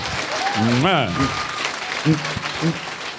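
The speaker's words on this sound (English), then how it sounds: "give him a big round of applause for even getting this far and knocking it out" Convention panel audience applause sits under a speaking voice, the clapping steady and moderately loud throughout while the speaker talks over it.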